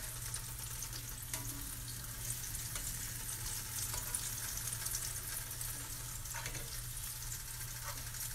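Lemon pepper spare ribs crisping in a pan with a steady, dense sizzle that holds even throughout, broken only by faint scrapes and stirs, with no one speaking.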